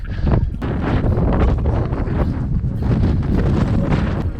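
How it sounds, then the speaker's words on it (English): Strong wind on a Colorado running trail buffets the microphone in a continuous roaring rumble, gusting slightly louder and softer throughout with no voices. "it's getting windy again"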